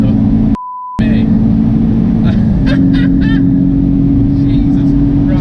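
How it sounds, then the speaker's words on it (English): A 420 bhp decatted Audi S3 exhaust rumbles loudly at steady revs, interrupted by a brief electronic beep, followed by a few sharp crackling pops as the DSG gearbox changes gear. "The DSG farts sound incredible as well."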